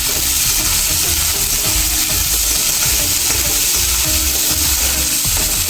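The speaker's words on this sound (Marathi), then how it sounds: "कांदा आपल्याला व्यवस्थित परतून घ्यायचा आहे तेल सुटेपर्यंत" Finely chopped onions and cumin fry in hot oil in a pan, giving a loud, continuous close sizzle with occasional scraping and clattering as they are turned and stirred.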